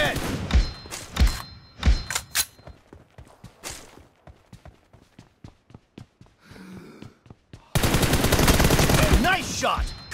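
Close M416 rifle gunfire from the PUBG Mobile video game: sharp single shots, then quick bursts in an uneven rhythm, ending in a loud, dense stretch of sustained firing and in-game noise.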